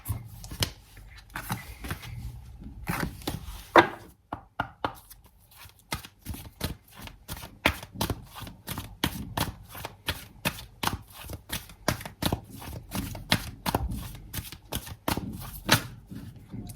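Tarot cards shuffled and drawn by hand: a quick run of crisp riffling slaps and flicks, mostly steady with a few short pauses, close up and fairly quiet.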